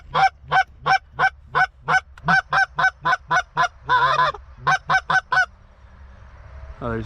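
A flock of geese over a Pennsylvania hunt honks in a steady run of loud, evenly spaced calls, with a denser overlapping cluster midway before the calling fades out.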